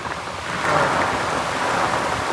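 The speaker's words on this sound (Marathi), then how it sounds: "पाऊस बघा कसं पत्र्यावर पडतं" Rain drums steadily on a metal roof, a loud, dense rushing patter with a low rumble beneath it.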